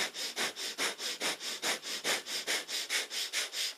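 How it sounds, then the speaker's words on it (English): Rapid rhythmic nasal panting of breath of fire during kundalini yoga, about fifteen sharp, even sniff-like exhalations, close and clear with no talking. "Breath of fire is our panting breath through the nose."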